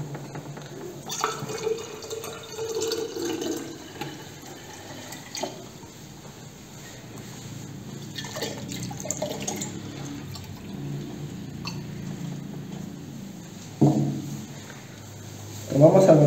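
Water poured through a plastic mesh stretched over a container, heard as a few short splashing and trickling bursts over a quiet room background, with a louder splash near the end.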